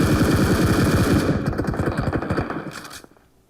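Rapid automatic gunfire from PUBG Mobile, a dense, loud burst of rattling shots that thins out and stops near the end, with no talking.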